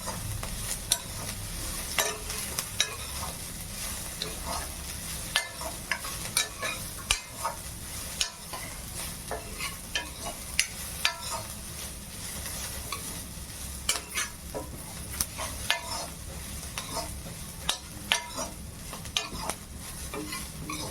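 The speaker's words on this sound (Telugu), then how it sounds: "కొంచెం ఉల్లిపాయలు మెత్తబడే వరకు వేసండి" Onions frying in a pan for a South Indian dish, a steady close sizzle with constant stirring scrapes and frequent light utensil clicks throughout.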